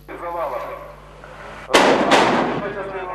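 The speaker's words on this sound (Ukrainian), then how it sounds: "Зімітований вибух газу у багатоповерхівці і справжня пожежа" A sharp, loud blast of a simulated gas explosion in an apartment building during an emergency services drill bursts out after a stretch of quieter background noise, followed by a second crack and a rumbling, noisy tail.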